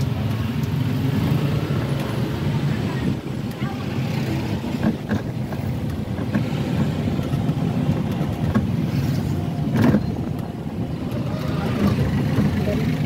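A motorized tricycle engine drones steadily during a ride in Boracay, loud and continuous with road rumble, while people talk over it.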